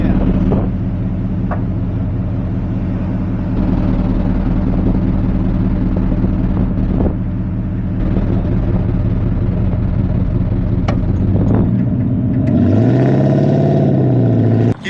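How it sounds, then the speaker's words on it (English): Honda off-road vehicle engine running steadily under light throttle, a loud close droning hum that swells as the revs climb near the end, with occasional clunks and no talk. "So we're giving it a little bit of gas."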